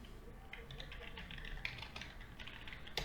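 Values being typed on a computer keyboard for a Python exercise program: a soft, quick patter of key taps running continuously, with one slightly louder keystroke near the end, close but quiet.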